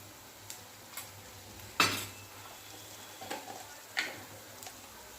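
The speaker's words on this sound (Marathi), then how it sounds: "कांदा छान भाजत आलेला आहे" Onions fry in a pan with ginger-garlic paste and red chili powder over low heat, with a faint sizzle under several sharp clinks and scrapes of a spoon stirring against the metal.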